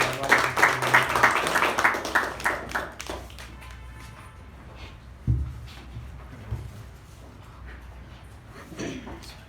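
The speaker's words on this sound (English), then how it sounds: "So the huge round of applause." Applause at a Toastmasters club meeting: a loud burst of many hands clapping for about three seconds, then trailing off into a quiet room with a single thump and faint scattered sounds.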